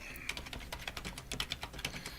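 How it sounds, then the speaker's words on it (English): Rapid, uneven clicking of a computer keyboard being typed on, close and fairly quiet, with no talking. "I'm not good at multitasking when it has to do with typing."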